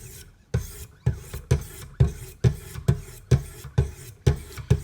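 Kershaw Fraxion knife blade being sharpened on a Wicked Edge sharpener with fine 800 to 1000 grit stones, giving about ten steady rasping strokes in an even rhythm, close and moderately loud with no talking.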